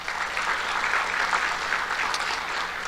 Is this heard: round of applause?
yes